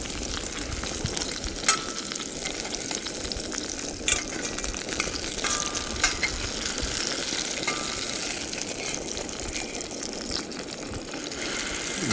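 Food fries in a Fire Maple Antarcti 8-inch stainless steel frypan, a dense, continuous crackling sizzle holding steady throughout, with occasional louder pops and no voices.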